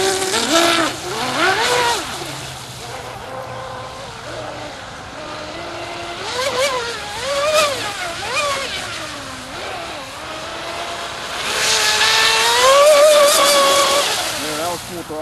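A small RC boat motor whines loudly at full throttle, its pitch rising and falling in sweeps, with a voice speaking briefly at times.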